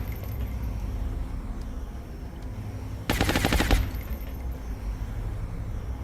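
Alien gunfire in the XCOM strategy game during an alien base assault: a single rapid automatic burst of shots, loud and close, lasting under a second over a steady low game ambience, with no talk.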